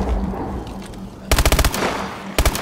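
Gunfire in a zombies video game: two tight bursts of rapid automatic shots, the first longer and the second brief, loud and close over a steady background hum.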